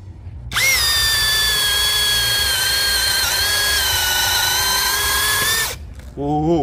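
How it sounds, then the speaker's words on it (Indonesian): A cordless brushless Dongcheng drill, on speed setting 2, bores into about 18 cm of mahogany, whirring steadily at high speed for about five seconds, starting and stopping abruptly, loud and close, with a brief vocal sound at the end. "Di sini saya akan mengebor dengan mode mengebor biasa, kecepatan nomor 2."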